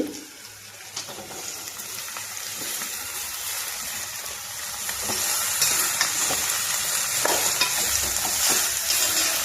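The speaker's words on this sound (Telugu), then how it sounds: "ఉల్లిపాయ ముక్కలు వేసేస్తున్నామండి పచ్చిమిరపకాయ ముక్కలు ఒక నిమిషం పడి వేగిన తర్వాత" Chopped onion and green chilli frying in a pan, a dense hissing sizzle that grows louder partway through, with occasional light stirring clicks and no voices.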